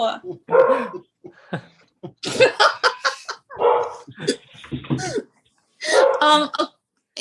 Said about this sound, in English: That's my sister's guide dog.